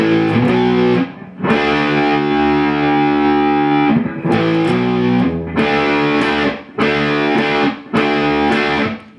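Heavily distorted electric guitar chords from a song ring out loudly, one long sustained chord followed by a repeating pattern of shorter strummed hits with brief gaps.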